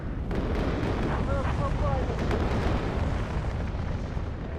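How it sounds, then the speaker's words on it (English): Cluster munitions going off in the WARNO real-time strategy video game, a dense continuous rumble of overlapping explosions, loud and sustained with no clear gaps. "here comes the cluster munitions."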